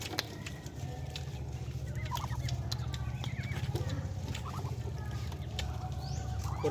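Ducks calling on a rural farm in Mindanao, a few scattered quacks and squawks over a steady low rumble of background noise, with no talking.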